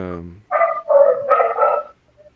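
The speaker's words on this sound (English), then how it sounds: "The dogs are hell excited about this." Excited dogs give a run of close, loud barks and yips in quick succession, following a brief voiced sound at the start.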